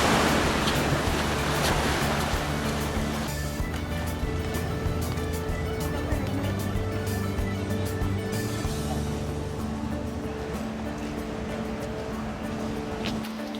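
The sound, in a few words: ocean waves breaking on Tenerife beach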